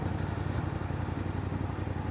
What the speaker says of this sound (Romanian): Și motorul nu dă semne că nu mai poate. Cu toate că îi turat destul de mult.